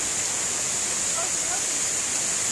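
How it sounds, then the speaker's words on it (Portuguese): A waterfall pouring out of a cave near Iporanga, São Paulo, gives a steady, loud, broadband rush of falling water that holds unchanged throughout, close by and without pauses. "Essa cachoeira é que sai de dentro da caverna que a gente vai entrar."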